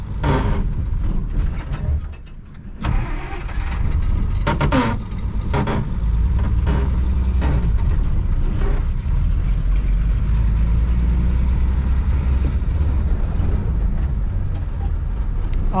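A 1962 Willys Utility Wagon that sat for 28 years runs while being driven, its engine droning steadily and loudly throughout, with clunks and rattles early on and no talk.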